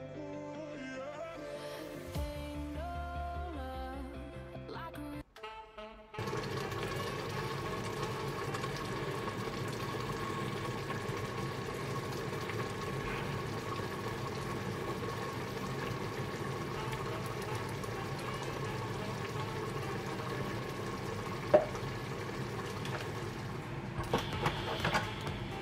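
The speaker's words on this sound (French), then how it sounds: "je vais mettre mon Cookéo en mode cuisson sous pression pendant 6 minutes" A Cookeo multicooker set to pressure-cook eggplant for moussaka gives a few rising electronic beeps, then settles into a steady low hum with a faint bubbling hiss that runs on evenly, fairly quiet.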